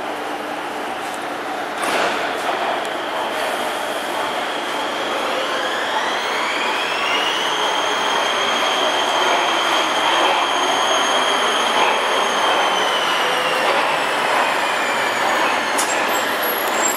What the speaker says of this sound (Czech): Teďka čekáme, až tam přijede metro a vidíme, že už se něco valí.